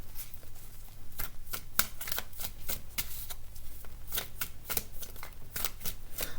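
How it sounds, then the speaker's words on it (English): Tarot cards are dealt out one after another in a quick, regular run of crisp card snaps and slides, heard up close with a faint low hum underneath. "dealing these cards out here, because I have to see the overall"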